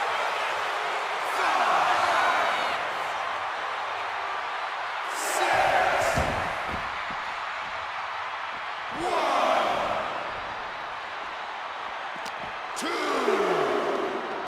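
Arena crowd in the WWE 2K25 wrestling video game, a steady broadband roar that swells into louder surges about every three to four seconds with no clear talk on top.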